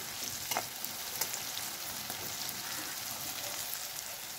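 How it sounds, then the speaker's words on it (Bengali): Sliced bitter gourd fries crisp in hot oil, a steady close sizzle with crackling pops and the occasional scrape of stirring, no voices over it. "এখানে উচ্ছেটা একদম কড়া করে লাল লাল করেই কিন্তু ভেজে নেব আমি।"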